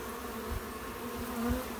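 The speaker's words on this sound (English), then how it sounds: "These are all forage bees trying to get back into the hive." Forage bees crowd a hive entrance, trying to get back in, a steady close swarm buzz with shifting hum that keeps on unbroken throughout.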